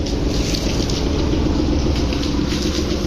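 Passenger launch Rajdut Prime, readying to depart on its inaugural Kaliganj–Patarhat trip, gives off a steady, close, low rumble mixed with wind buffeting, constant throughout with no voices.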